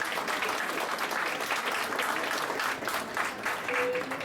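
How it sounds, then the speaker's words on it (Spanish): Audience applauding at an academic conference session on cataloguing and metadata, steady dense clapping throughout at moderate level with no voices over it. "Un aplauso, por favor."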